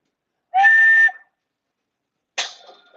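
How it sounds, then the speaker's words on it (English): A novelty 1930s-era Japanese ceramic beer mug with a built-in whistle sounds two shrill blasts: a steady half-second tone, then after a pause a second, wavering and fading toot, both close and alone. "You can whistle for your beer."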